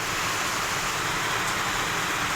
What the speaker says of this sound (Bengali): এত যে বৃষ্টি পড়ছে,